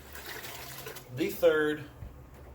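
Water glugs briefly from a 32-ounce Nalgene bottle into a Presto pressure canner, a short rising pour of under half a second amid quiet room noise.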